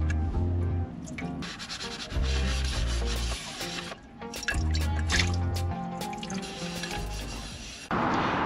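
Dishes are scrubbed and rinsed with heated water inside a camper van, close rubbing and scraping strokes mixed with drips and small splashes and a short pour near the end, steady and quiet with no talking.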